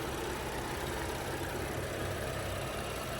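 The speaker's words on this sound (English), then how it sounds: "So as you can tell, nice and smooth running engine, no odd noises or vibrations." A 2015 BMW X5 xDrive35i's 3.0-liter twin-power turbo engine idles with a steady, smooth, low hum. It runs continuously at an even level, without obvious knocks or variations.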